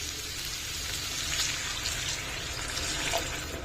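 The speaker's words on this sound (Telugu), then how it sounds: "చూడండి, ఇప్పుడు వాటర్ యాడ్ చేసుకుందామండి" Water goes into a hot pan of bitter gourd pulusu, setting off a constant, close, hissing sizzle with a bubbling, rain-like texture that holds steady from start to finish.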